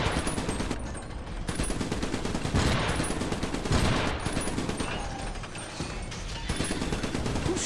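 Sustained automatic gunfire rattles in rapid, continuous bursts during a battle with a British officer, loud and close, with overlapping volleys and sporadic single shots layered over the din.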